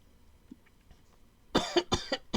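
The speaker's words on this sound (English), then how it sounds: "Yeah, I'm coughing a lot." A person coughs close to the microphone in a quick burst of three or four harsh coughs after a stretch of near silence with faint background noises.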